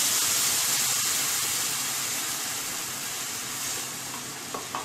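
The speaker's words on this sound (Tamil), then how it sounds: "இப்போ இது நம்ம இதில் வந்து இதில் ஒரு கப் பால் ஊற்றிக்கலாம்." Milk poured into a pan of red poha already fried in ghee, giving a steady, loud broadband sizzle that slowly eases over a few seconds, with a couple of faint clinks near the end and no talk.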